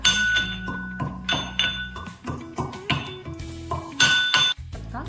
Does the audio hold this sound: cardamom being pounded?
yes